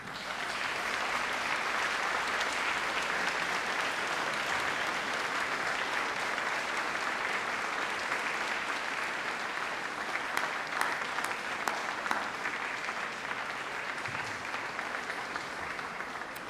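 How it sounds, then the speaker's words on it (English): A graduation audience at a university ceremony claps in sustained, steady applause lasting the whole stretch, a dense wash of hand claps with slight swells, no talking over it. "give them a round of applause"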